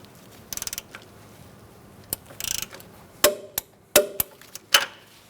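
A torque wrench ratchets as it tightens a sway bar link nut on a Fiat 500, giving short bursts of rapid clicks, then several sharp, louder clacks. It is close up, with no talking.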